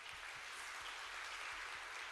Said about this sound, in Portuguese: Gente, vamos aplaudir o Senhor pela vida deles.